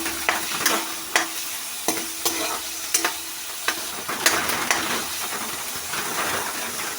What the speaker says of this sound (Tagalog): Igisa lang nato sa gamay nga mantika.